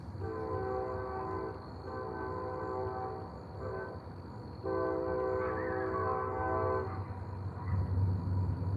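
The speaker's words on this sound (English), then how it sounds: "That train's coming." A train horn sounds in several long blasts with short gaps between them, over a steady low rail rumble, fairly close and loud throughout.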